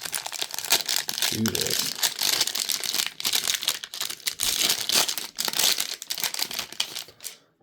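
Optic trading card packs being ripped open, with dense crinkling and tearing of foil wrappers over several seconds and a brief spoken line.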